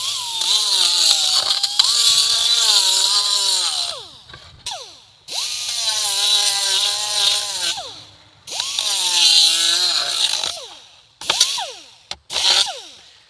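Power disc grinding an aluminum plate, the disc waxed with paraffin: a loud, close whining motor cuts in and out in several long bursts, pitch sagging under load and rising as the grinder spins back up between passes.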